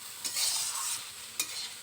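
Chowmein ingredients with turmeric and salt are stirred in a hot pan, a soft sizzle broken by two quick scraping stirs, close by with no voices.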